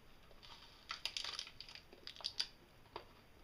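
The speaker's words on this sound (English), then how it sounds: "I'm going to try this peanut butter rice bar for the first time" A crispy organic peanut butter rice bar crunches under a few quiet, close bites and chews, faint crackly bursts over soft background hiss with no talking.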